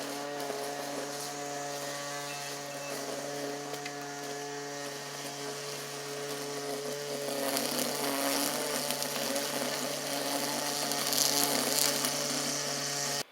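An ECOVACS GOAT A3000 Pro robot mower working in trim mode around a garden bed, a steady high-pitched motor whine with a buzzing trimmer that grows louder and rougher partway through, moderately close with no talking.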